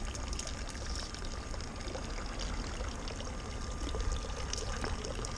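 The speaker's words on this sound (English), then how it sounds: "pour water into your left hand" Water pours from a ladle at a Japanese temple purification fountain in Nagoya, making a continuous splashing trickle at moderate level with no voices.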